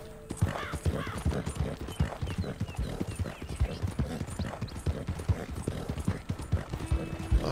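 Horse hooves clip-clop in Red Dead Redemption as a horse is ridden at a slow pace through the town of Valentine, a steady rhythmic trot of close, moderately loud hoofbeats with a brief whinny and some game sounds behind.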